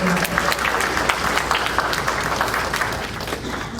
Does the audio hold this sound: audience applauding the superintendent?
yes